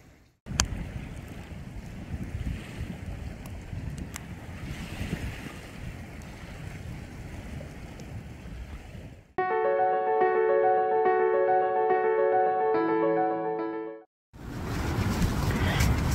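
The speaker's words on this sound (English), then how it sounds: "Listen to the water roll in." Water rolls in at a lake shore in State Recreation Area parkland, a continuous wash mixed with wind rumble, broken midway by a few seconds of tonal musical notes before the surf returns.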